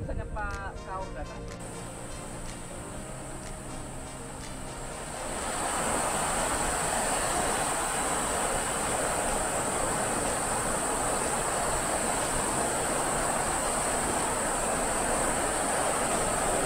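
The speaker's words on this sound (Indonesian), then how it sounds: "Alhamdulillah, kita sampai di lokasi air terjun." A waterfall on Sumba island roars as a broad, steady rushing of water that swells in after a few seconds of tonal music and then holds loud and continuous to the end.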